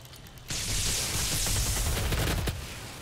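Shotgun blasts in a DOOM online multiplayer domination match, a sudden loud burst of rapid overlapping gunfire lasting about two seconds with a final sharp shot before it fades.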